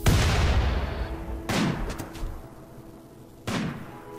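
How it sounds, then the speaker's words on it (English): Sniper rifles fire in a Rimworld battle, three separate booming shots spaced well apart, each with a decaying tail, at moderate loudness. "I need my snipers to shoot the guy with the grenades"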